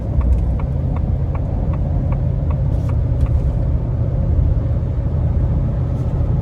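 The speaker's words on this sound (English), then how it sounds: "So as far as road noise, I'd say it's pretty similar to my truck." A 2023 Ford F-350 Tremor with the 7.3 gas engine cruising in eco mode, giving a steady low engine drone and road rumble from inside the cab, with faint light ticks over it and no talk.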